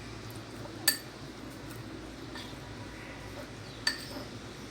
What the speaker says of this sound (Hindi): इसको अच्छी तरह मिक्स करेंगे।